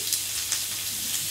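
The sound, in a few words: bacon sizzling in a grill pan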